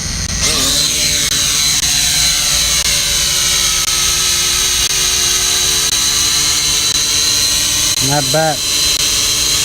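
A Holy Stone HS100 GPS FPV quadcopter drone hovers close by with a loud high-pitched whining rotor buzz that stays steady, then shifts pitch briefly near the end as it lands, while a person speaks.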